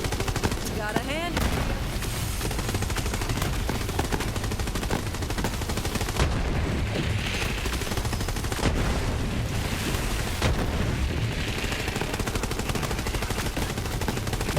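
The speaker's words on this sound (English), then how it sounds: "So many explosions." Dense explosions and rapid gunfire from the video game Tales of Berseria, loud and continuous bursts layered over one another with voices talking beneath the battle noise.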